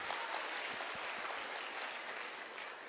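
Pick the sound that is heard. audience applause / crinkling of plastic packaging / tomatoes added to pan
audience applause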